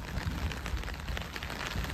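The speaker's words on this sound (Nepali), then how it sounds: "डेन्जर पानी पर्दैछ है" Rain falls steadily during a hike up Champadevi hill near Dakshinkali, Nepal, a close, continuous broadband patter with scattered sharper drops and a low rumble underneath, no voices.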